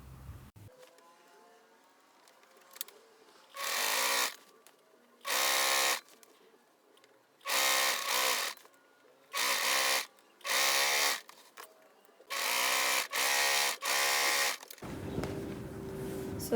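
A sewing machine hems fabric along the sleeve of an asymmetrical peplum top, running in about seven short, loud whirring bursts separated by quiet pauses.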